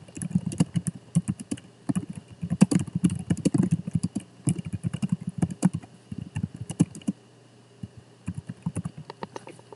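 Computer keyboard typing as a slide title is entered in PowerPoint: quick bursts of close, light key clicks with short pauses between words, clear and unaccompanied by speech.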